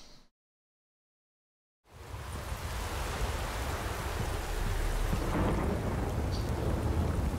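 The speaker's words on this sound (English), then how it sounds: "I got a feeling the reason it's constantly raining and storming is just because I'm still on this quest here." Steady heavy rain with a deep rumbling thunderstorm in The Witcher 3: Wild Hunt, starting after a short silence and then holding as a loud, constant roar.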